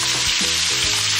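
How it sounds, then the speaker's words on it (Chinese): Onion joins pan-fried lamb and sizzles loudly and continuously in hot oil, with low stirring knocks under the dense frying hiss, close to the pan. "羊肉煎差不多了，我们加入这个洋葱、"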